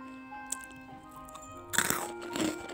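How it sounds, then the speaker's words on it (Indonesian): Crunchy keciput, small round Indonesian fried cookies, are bitten and chewed close to the mic, with a faint early crack followed by two louder bursts of crisp crunching and no speech. "Rasanya enak, teksturnya renyah dan crunchy banget."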